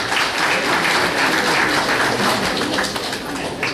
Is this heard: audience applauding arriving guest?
yes